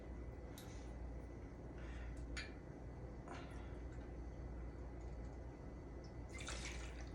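Gin poured over ice in a cocktail shaker, a soft liquid trickle with a few light splashy bursts against steady low background noise, close and fairly quiet, no talking.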